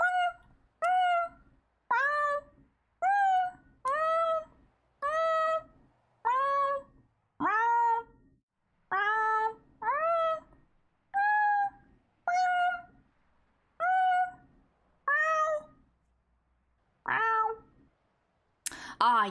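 A cat meow sound effect, set off by a viewer redeem during a livestream of the game The Morning Star, repeats about a dozen times in a steady loud rhythm, each meow short and clear with no talk over it.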